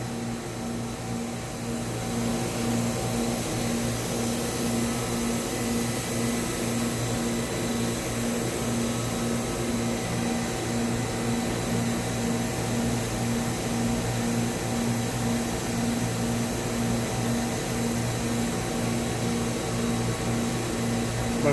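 The roughing pump on an Edwards E306A vacuum coater under repair drones continuously, a steady mechanical hum with a persistent tonal whine and rhythmic pulsing, loud and close, unbroken for the whole stretch.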